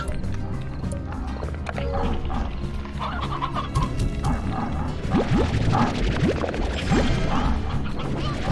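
Chickens cluck and squawk in the game Slime Rancher, repeated clucks and rising calls over a busy in-game background with footstep-like thumps, growing denser toward the end.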